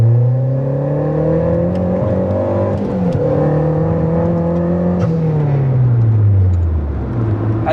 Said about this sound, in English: after you take off in second gear, shifting into third, you never let off the gas